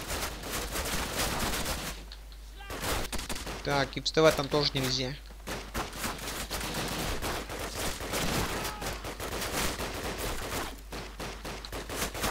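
Gunfire in the video game Call of Duty, scattered shots and bursts mixed with battle noise across the whole stretch, with someone talking over part of it.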